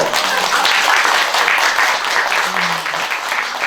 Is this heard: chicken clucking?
no